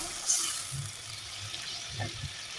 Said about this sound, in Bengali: এখন আমি সামান্য কিছু পানি দিয়ে দেব।